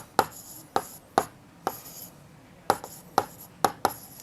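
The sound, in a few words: writing by hand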